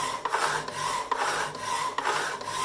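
A hacksaw cuts a piece of metal for a frame support mount on a Batpod build, its strokes rasping back and forth in a steady, even rhythm of about two strokes per second, close up and alone.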